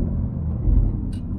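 Alfa Romeo Giulia GTAm engine on the move, a steady low rumbling drone heard from inside the car, with a brief higher hiss near the end.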